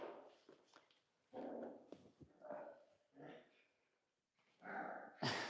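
Goldendoodle puppies make small whimpers, snorts and soft barky noises in short bursts close by, with an adult voice speaking softly in between.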